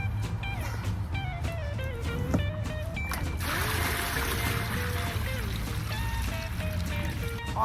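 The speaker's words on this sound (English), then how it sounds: "I'm going to attempt to dump this water into my" Water is dumped from a bucket into a container for making comfrey tea outdoors, a sustained close pouring and splashing rush following a few soft knocks.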